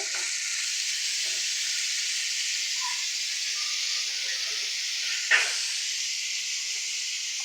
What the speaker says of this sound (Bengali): তারপর মাছটা ভেজে নিচ্ছি